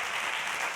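An audience at a Spanish education event breaks into applause, a dense, even burst of clapping that stays loud through the short moment.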